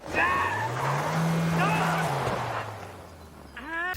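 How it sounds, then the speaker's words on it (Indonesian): Car tires skid and squeal on a bumpy road in a film scene, a rising and falling screech lasting a couple of seconds with engine rumble beneath and a voice briefly heard near the end. "ban mobil mereka selip saat melintasi jalanan yang legok"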